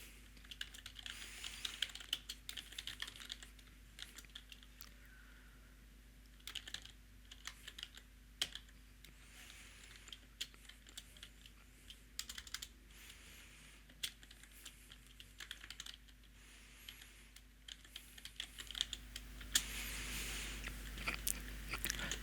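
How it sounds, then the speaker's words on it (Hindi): Keys clatter on a computer keyboard at a desk while a form is filled in for a Microsoft Access database, a steady stream of quiet, irregular clicks and taps with short pauses, no voices. "मैं यहाँ पे टाइप करता हूँ"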